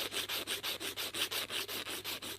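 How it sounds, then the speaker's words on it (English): A nail file works back and forth across a short acrylic nail on a bitten nail, giving a close, steady rasping rub in even strokes, about five per second, with no voices. "this nail's ready for filing"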